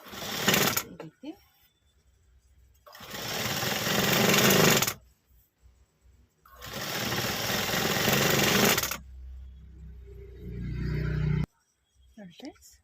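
A sewing machine stitches folded cloth in two long bursts of rapid, steady whirring, each a few seconds long, with short pauses between and a third shorter run near the end; brief speech is heard in the gaps.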